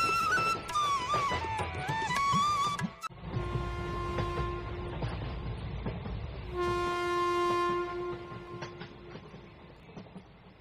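A train pulling into a railway station platform in the evening, with a loud sustained horn blowing in long tonal blasts over heavy rolling rumble and clatter of wheels on rails, up close and without talk.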